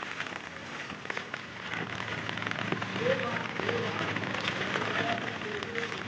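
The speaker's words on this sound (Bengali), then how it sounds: "কিন্তু বৃষ্টিও যুক্ত হচ্ছে।" Rain falls steadily around a half-built festival pandal, a dense even patter on surfaces that stays continuous and moderately close, with no clear talk over it.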